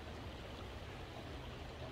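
A small trout creek flows steadily and close by, a continuous broadband rush of running water with no voices over it.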